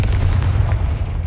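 A Confringo fire spell explodes in the Hogwarts Legacy video game, a loud, sustained booming blast with heavy low rumble and crackling bursts filling the whole moment.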